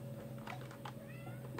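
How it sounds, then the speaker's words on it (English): A pet cat meows indoors, a few faint short mews spaced across the moment over a steady electrical hum. "it's just my cat"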